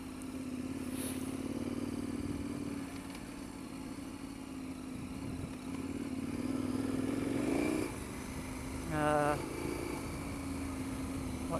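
KTM 1090 Adventure R motorcycle engine running steadily on a trail, its low, even drone rising briefly in revs a couple of times, with a voice talking over it.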